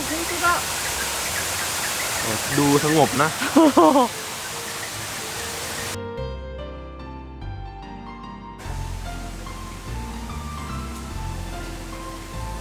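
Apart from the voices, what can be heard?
waterfall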